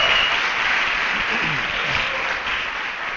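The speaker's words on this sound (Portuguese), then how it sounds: "Só os que creem vão dar um aplauso a Ele agora." Congregation applause at a church service, a thick continuous wash of clapping throughout, with faint singing or voices rising underneath.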